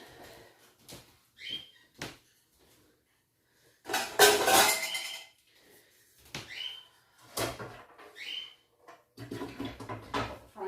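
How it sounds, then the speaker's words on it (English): Dishes are unloaded in a kitchen while a chicken pot pie is being made: plates and pans clatter and cutlery clinks in scattered bursts, with one longer loud rattle of stacked dishes and short quiet gaps between. "let's get some of these dishes unloaded"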